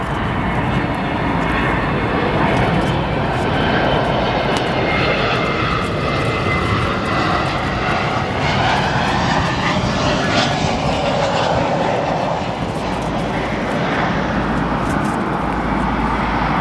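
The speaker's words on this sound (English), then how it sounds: "our next arrival, Frontier Airlines, an Airbus A321" A Frontier Airlines Airbus A321 lands at Chicago O'Hare, its engine roar loud and sustained throughout, swelling and shifting as the jet passes.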